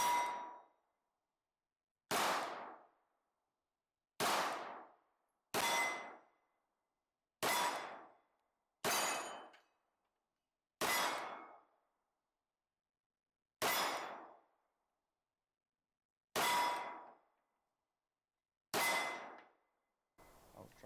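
A Tisas 1911 DS pistol fires about ten separate shots at a steel target from roughly 13 yards at an outdoor range, each a sharp report with a ringing clang, spaced about two seconds apart.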